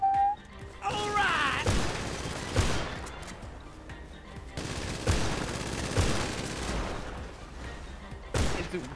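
Gunfire in the video game GTA 5 during a roleplay superbike police chase, bursts of rapid shots and impacts over engine and street noise, with someone talking in the background.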